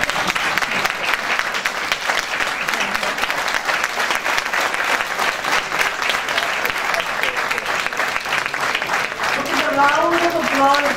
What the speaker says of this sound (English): Round of applause shows how well-known and popular he is.